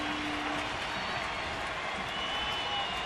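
A baseball crowd at the Oakland Athletics' home opener makes a steady, distant roar of cheering and clapping that fills the whole stretch.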